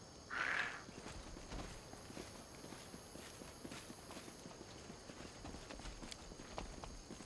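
Horse hooves walk in a steady rhythmic clip-clop in Pathfinder: Wrath of the Righteous, fairly quiet, after a short soft sound at the start, over a faint ambient background.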